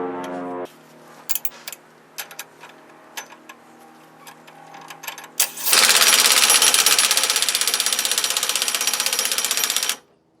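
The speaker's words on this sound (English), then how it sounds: "I'm going to tighten that all the way down." A ratchet tightening a bolt on a dual steering damper kit fitted to a 1999-2004 Jeep Grand Cherokee, first as scattered clicks and knocks, then a loud, fast, continuous run of close ratcheting clicks lasting about four seconds before stopping abruptly.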